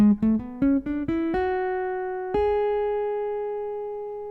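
A tapped touch guitar plays a rising Locrian scale of single notes, quick at first, then slowing, ending on a long sustained tone that fades gradually.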